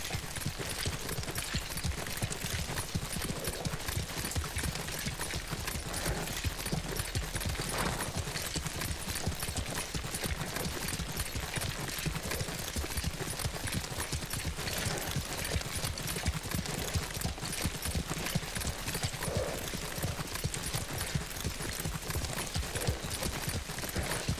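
Horse hooves galloping in the video game Ghost of Tsushima, a rapid steady clip-clop rhythm that runs continuously and fairly faintly under the game's ambient sound with no talk.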